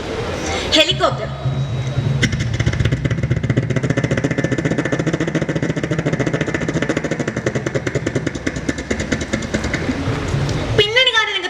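At a school arts festival mimicry contest, a performer vocally imitates a helicopter with a rapid, steady rotor chop sustained for about ten seconds between brief vocal flourishes, loud and close through a microphone.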